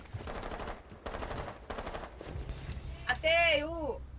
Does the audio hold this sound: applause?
no